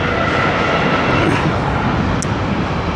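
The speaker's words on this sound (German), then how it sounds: "Ich habe sehr lange gewartet auf den Zug, ne, der jetzt da kommt." A train pulls into a station near Emmerich at night, a steady loud rumble of wheels and engine filling the whole clip, with a brief high squeal near the end.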